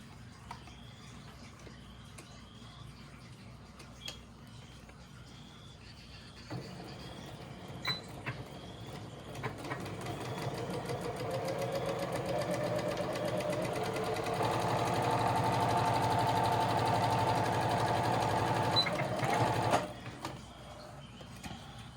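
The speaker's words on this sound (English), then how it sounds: "we'll sew our main design fabric together" A sewing machine stitches two pieces of main design fabric together, starting with a few short bursts, then running in a steady, rising hum for about thirteen seconds before stopping, near and loud with no talking.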